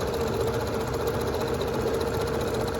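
Domestic sewing machine running steadily as it chain-pieces scrap quilt pieces with a quarter-inch seam, a continuous close mechanical whir with no talk.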